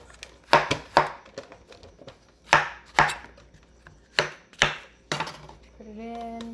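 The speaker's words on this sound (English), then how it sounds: "So for mushrooms, we're just gonna slice it" A knife slices mushrooms on a cutting board in sharp, irregular thuds, about eight cuts over several seconds, close and fairly loud, followed by a brief tonal hum.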